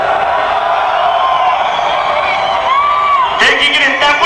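Crowd at a Brazilian funk show shouting and whooping together, a loud continuous roar of many voices with a few sharper yelps near the end.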